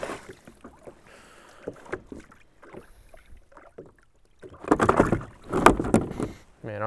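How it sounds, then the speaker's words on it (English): Malfunctioning Mirage pedal drive on a fishing kayak on the water: irregular knocking and clunking with splashy churning, growing louder and busier toward the end, close to the microphone. "My Mirage drive isn't working properly."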